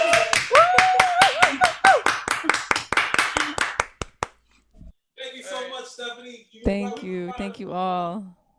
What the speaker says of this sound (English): Let's do the applause one more time.